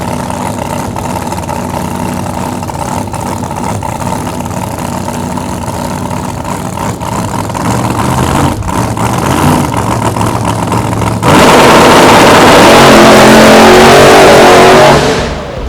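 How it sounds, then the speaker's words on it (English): Pro nitrous drag race car engine revving loudly and continuously during burnouts, holding a rough steady roar before jumping to a harsher, louder full-throttle blast near the end, very close. "We made 2 burnouts and Lizzie got to actually stage the car, let the button go."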